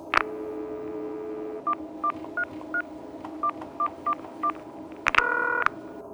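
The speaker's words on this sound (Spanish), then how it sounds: "fue por eso que Daniela llamó por teléfono a Rubén esa misma noche." A telephone number being dialed with touch-tone keys: a handful of evenly spaced short DTMF beeps in a steady rhythm, then a brief burst of tone at the end, heard alone over faint background hiss.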